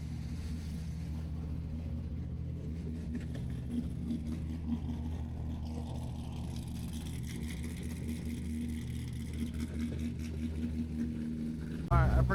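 A straight-piped Chevrolet Corvette C6 idles at a Southern California cars and coffee meet, a deep, steady, close rumble that runs throughout, with voices faintly present over it.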